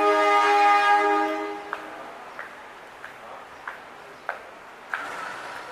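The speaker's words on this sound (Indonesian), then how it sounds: "Tuh, ada lokomotif lagi langsir mau masuk depo kayaknya." A shunting locomotive at Yogyakarta station sounds a sustained horn, then rolls on with a regular series of sharp wheel clacks over rail joints, moderately distant.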